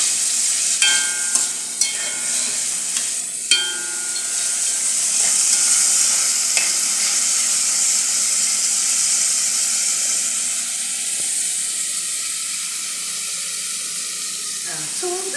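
Onion sizzles steadily in a hot pan for a Trinidad-style sausage and vegetable dish, with a constant bright frying hiss, a few sharp clicks and spoon scrapes early on, and a faint voice briefly in the background.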